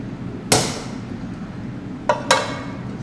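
A farrier strikes a steel anvil while shaping a horseshoe during hoof restoration, giving one sharp ringing blow, then two more close together about a second and a half later, over a steady low background.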